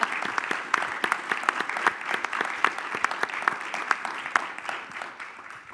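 A crowd applauding a panel discussion steadily, with dense rapid clapping that carries on evenly without any talking.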